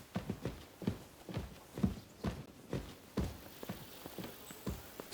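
Horse hooves clip-clop on the ground in Kingdom Come: Deliverance II, a steady walking rhythm of distinct thuds at moderate volume with no voices.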